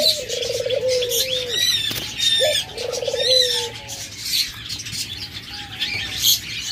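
Large white doves coo repeatedly at a bird market, with several short rolling coos at close range mixed with constant chirps and squawks from many caged birds.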